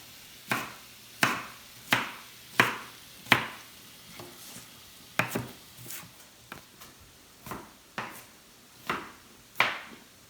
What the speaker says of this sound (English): I'm chopping up half of an onion.